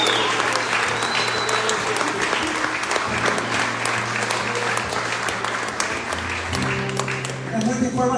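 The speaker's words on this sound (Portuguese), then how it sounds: "Dê um aplauso ao Espírito Santo." Congregation at a church service applauding loudly and steadily, the clapping sustained throughout over organ or keyboard chords, with some voices mixed in.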